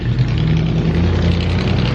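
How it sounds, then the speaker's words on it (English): A big, loud truck rumbles steadily close by, a dense low engine roar that holds constant and fills everything with no pauses. "Big Loud Truck."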